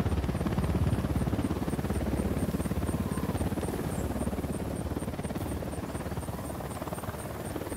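A helicopter in the video game Ghost Recon Wildlands: rotor thumps in a fast, steady rhythm, loud and near, with a constant engine whine and no speech.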